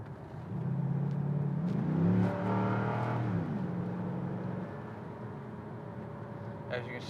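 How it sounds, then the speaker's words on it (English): A 2006 Chevrolet Corvette engine rises in pitch as the car accelerates and pulls away, the revving swelling to a peak and then settling into a steady cruising hum with faint clicks near the end. "the car gets up and takes off without an issue"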